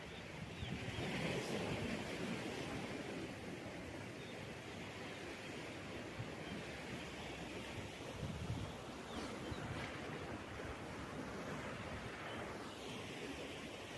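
Sea waves at Long Chao Kok coast in Macau just after rain, a continuous broad wash of surf blended with steady wind noise on the microphone, with no talking.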